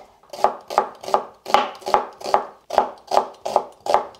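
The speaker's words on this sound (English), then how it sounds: "I have 1 medium-sized onion I'm gonna slice." A knife slices through a medium-sized onion on a cutting board in a home kitchen, about ten crisp, evenly spaced chops, close and loud with no talk.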